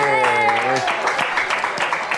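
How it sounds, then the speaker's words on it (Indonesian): Applause from a studio audience at an Indonesian comedy show, a steady broadband patter of many hands lasting the whole moment, rising after a voice trails off at the start. "Tepuk tangan lagi."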